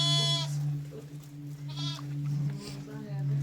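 Sheep on a farm bleat several times in separate calls, close and fairly loud, over a steady low hum, with people talking quietly in between.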